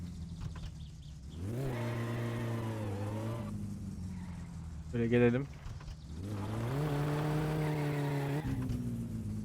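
The Satsuma car's engine in My Summer Car, a video game, starts and revs without backfiring from the exhaust. Rising, falling engine tones swell, drop briefly and climb again, with a short talking voice in the middle.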